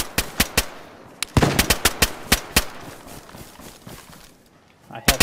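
A video game firefight, with loud, sharp gunshots cracking out in quick irregular succession, a brief rapid burst, then a quieter lull before more shots close it, while players talk excitedly over the action.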